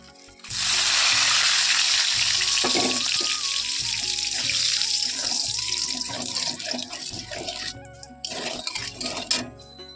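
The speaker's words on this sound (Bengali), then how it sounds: "এবার আমি ওই তেলের ভিতরে কিছু গোটা মশলা দিয়ে দেবো" Whole spices, a dried red chili and bay leaves hitting hot oil in a pan, setting off a loud, close, steady rushing sizzle that gradually thins and crackles down toward the end.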